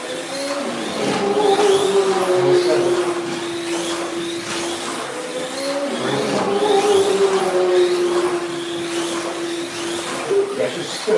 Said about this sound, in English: it's just spinning the tires off the corner